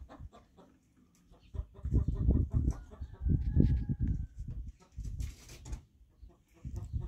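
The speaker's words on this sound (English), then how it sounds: "Chickens are freaked out" Chickens cluck and squawk in agitated bursts, fairly close, with some flapping and rustling, while other animal noises pass in the background.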